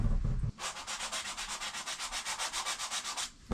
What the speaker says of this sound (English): The sanding wad again.